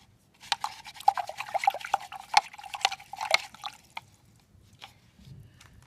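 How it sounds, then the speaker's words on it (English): A paintbrush is swished and tapped in a water pot, giving a cluster of close, quick watery splashes and drips over a few seconds that then trail off into quiet, with no talking. "Then I'm going to wash my brush."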